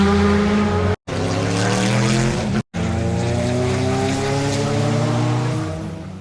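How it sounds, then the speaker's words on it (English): Historic race cars rounding Graham Hill bend at Brands Hatch during the London Historic Trophy races, engines roaring loud and close with a rising, sustained drone, broken by two brief dropouts. "ideal for shooting the cars as they reach the bottom of the hill and then go around a Graham Hill bend"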